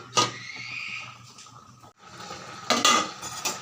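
A lid set onto a pot of bottle gourd cooking with fish head, salt and green chilli, heard as two short metallic clanks and scrapes over a soft background sizzle, with no voices.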